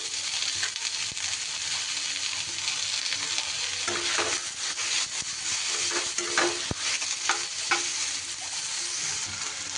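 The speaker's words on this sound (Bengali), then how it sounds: "তেলটা গরম হলে আমি আলুর টুকরোগুলো দিয়ে দিলাম" Potato pieces frying in hot white oil in a pan, a steady loud sizzle throughout with faint stirring scrapes, no voices.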